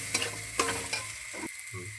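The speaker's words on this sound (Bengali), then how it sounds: "হলুদগুলো দিয়ে দিলাম, দিয়ে এবার নাড়াচাড়ি করবো ভালো করে, একটু মিক্স হয়ে যাক" Turmeric and spices frying in a pan, a short steady sizzle with a few scraping strokes of a spoon stirring through them, close and moderately loud, no voices.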